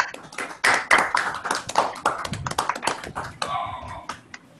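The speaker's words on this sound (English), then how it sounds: "just have a huge applause for all that we have achieved this month" Participants on a virtual community video call clapping through unmuted microphones, a scattered mix of sharp uneven hand claps and taps from several people, moderately loud with no talking over it.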